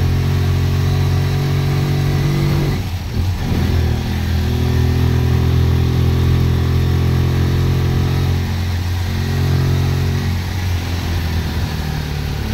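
A motorcycle engine, cold, runs steadily and loudly throughout, with a low throbbing rumble that swells slightly as it revs on the road.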